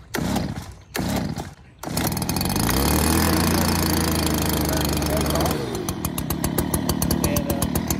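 A cold STIHL SR 200 gas backpack sprayer, unused for over a year with old fuel inside, is pull-started with a few sharp cord pulls before its small two-stroke engine catches and runs loud and close, then settles into a rapid idle.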